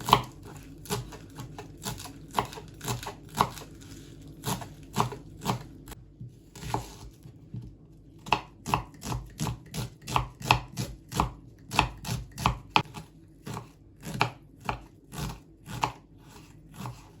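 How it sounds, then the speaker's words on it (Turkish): Knife finely chopping onions and parsley on a cutting board, a long run of crisp close thuds in quick uneven bursts with one brief pause, no talk. "Öncelikle soğanlarımızı ve maydanozlarımı ince ince, ince kıyacağız arkadaşlar."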